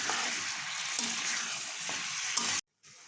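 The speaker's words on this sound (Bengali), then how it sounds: "চিকেনটা আমি তেলের মধ্যে ফ্রাই করে নেব হালকা সতে" Pieces of chicken frying in oil with a lightly sautéed sizzle, a steady, close, loud crackle with occasional stirring knocks, cutting out briefly near the end before resuming.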